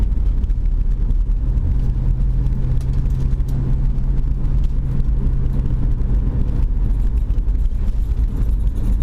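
Car driving past Chilhowee Lake in Tennessee, a continuous loud road and engine rumble with steady low hum, heard from inside the moving vehicle without talk.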